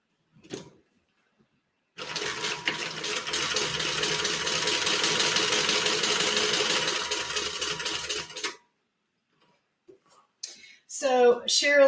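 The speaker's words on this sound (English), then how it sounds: "I'm just going to flip this over and top stitch on the bottom band." A sewing machine runs steadily for about six seconds, top stitching the bottom band of a fabric bag, loud and close, with brief talk before and after the run.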